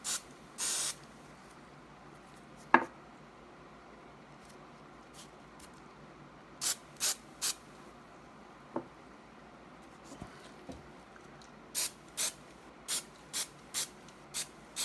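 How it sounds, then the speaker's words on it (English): Short hissing bursts of contact adhesive aerosol spray come in quick repeated puffs, a few near the start and a steady series toward the end, with quiet between. "Take your contact spray,"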